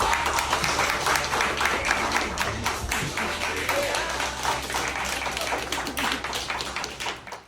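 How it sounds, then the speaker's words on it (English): Audience applause for a 101-year-old World War II veteran who served in the Asia Pacific as a field technician, steady clapping mixed with crowd murmur and tapping, fading out at the end. "So if you guys could please give him a round of applause."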